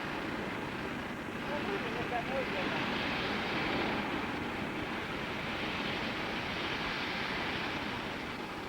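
Engines of a C-5A aircraft give a steady, broad roaring rumble at moderate level, sustained throughout with a slight swell in the middle, while people talk faintly underneath.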